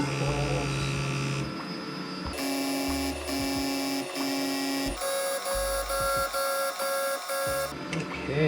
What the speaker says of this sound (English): Fuel pump on.